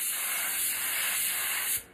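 Water blasting steadily from an HVLP paint spray gun, a continuous close, loud hiss that holds evenly for nearly two seconds before cutting off sharply.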